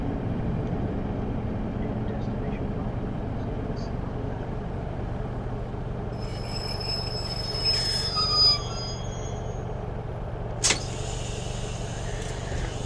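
A Class 153 diesel train braking under full service brake near a bridge, a steady low rumble of running gear joined by high, shrill wheel squeals in the latter half, with a sharp brief screech near the end.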